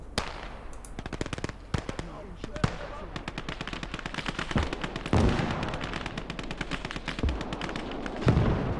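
Rapid machine-gun bursts and sharp gunshots crack in dense, irregular volleys, with heavier artillery booms mixed in, from a World War II Eastern Front battle in the video game Call to Arms: Gates of Hell.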